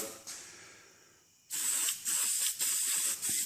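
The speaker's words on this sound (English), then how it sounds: "I'll go ahead and give this a light coat on either side." Adhesion promoter sprayed in a light coat onto plastic car trim parts for a 1991 BMW E34 M5 refinish: after a faint hiss fades, three loud close bursts of aerosol spray follow with brief gaps between them.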